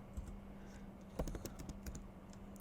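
Keys on a computer keyboard are tapped in quick, irregular bursts of soft clicks, faint and close, with no talking.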